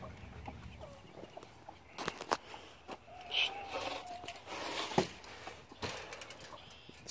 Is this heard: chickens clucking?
yes